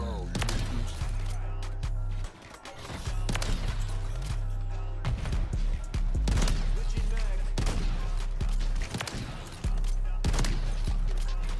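Blunderbuss shots boom in Call of Duty MW3, heavy blasts firing at a steady pace with short gaps between them, while someone talks over the gunfire.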